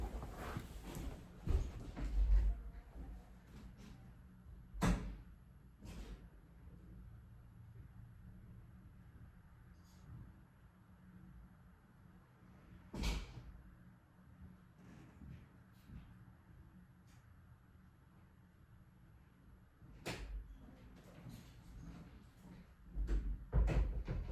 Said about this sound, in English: I'm just gonna get the door again.